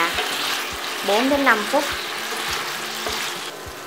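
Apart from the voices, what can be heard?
potatoes and carrots stir-frying in a pan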